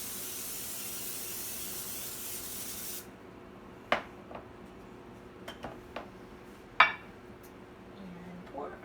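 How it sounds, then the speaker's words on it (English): Spray oil misted into an 8x8 baking pan while brownies are prepared: a steady hissing spray for about three seconds, followed by a few scattered light clinks and taps nearby. "We're just going to spray down"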